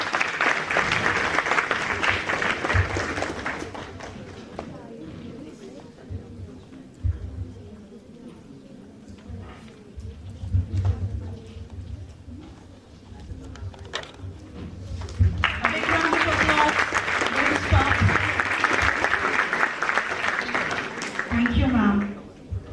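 A conference audience applauds a memento presentation to an honoured professor, with a loud burst of clapping at the start and another long swell later, and speech and quieter murmur in between.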